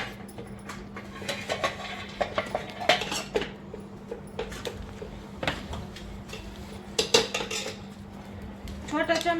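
A metal plate is lifted off vegetables cooking in a pan in a home kitchen, giving scattered light clinks and clatters of utensils and dishes, with a steady hum and people talking in the background.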